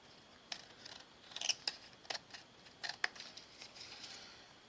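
Scissors cutting paper for a handmade Christmas card, a close run of crisp snips and rustles in an irregular rhythm, with no voices.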